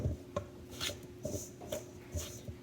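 Butter being stabbed with a utensil for a Swedish apple pie gives soft, irregular scraping and tapping strokes, about six quiet hits spaced through the stretch with no talk.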